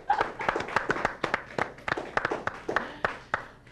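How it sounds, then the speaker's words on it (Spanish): A handful of people clap unevenly during an interview with a singer, sharp separate hits spaced through a few seconds, close and fairly quiet with a hum underneath. "Vamos a darle un fuerte aplauso."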